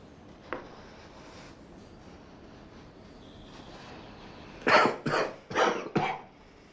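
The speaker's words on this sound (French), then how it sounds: "Comment arrêter cette toux?" Four harsh coughs in quick succession near the end, after a quiet stretch with one faint earlier click.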